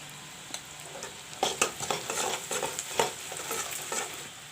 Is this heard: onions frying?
yes